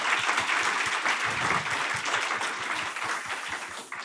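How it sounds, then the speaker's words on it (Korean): Large lecture-hall audience applauding a mechanical engineering professor after a Christmas lecture on automotive propulsion, dense sustained clapping throughout at a steady level. "다시 한번 큰 박수 부탁드리겠습니다"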